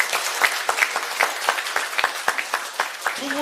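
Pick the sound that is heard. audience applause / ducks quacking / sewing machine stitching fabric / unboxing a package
audience applause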